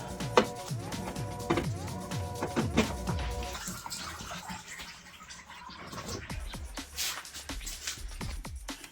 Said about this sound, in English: now you just have to pull this hose out. Careful, it's full with coolant.